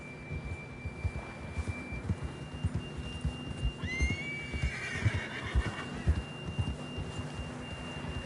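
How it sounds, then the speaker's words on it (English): In Red Dead Redemption 2, a horse lets out one clear whinny midway through over the thudding clip-clop of hooves, with a steady thin tone running beneath. "John was riding that horse when we left Blackwater"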